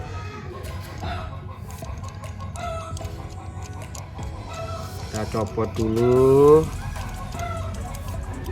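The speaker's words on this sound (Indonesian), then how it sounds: "Maaf ada suara ayam tetangga ini" A neighbour's chicken clucks in the background while someone talks nearby, then a rooster lets out one loud, drawn-out crow near the end that rises above the speech.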